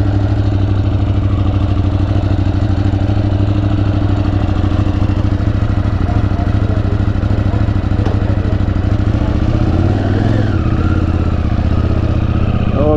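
A motorcycle engine runs steadily at the start of a ride toward Ladakh, a loud, continuous low throb with mechanical clatter, a brief shift in pitch near the end.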